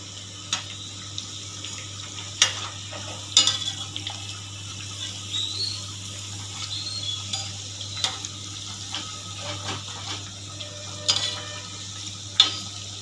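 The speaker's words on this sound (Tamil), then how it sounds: "இது நல்லா எண்ணெய் சலசலப்பெல்லாம் நல்லா அடங்கின உடனே உள்ள வரைக்கும் நல்லா வெந்துடும்" Raw banana vadas fry in a pan of bubbling oil, a steady low hiss with scattered crackles and a few sharper pops as the batter cooks; no one speaks.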